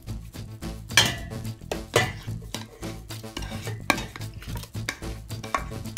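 Pasta being stirred back into a pot with sauce for sucuklu makarna, a Turkish pasta with sausage: close scraping and clinking of a utensil against the pot in an uneven rhythm, with a few sharper knocks and no talking.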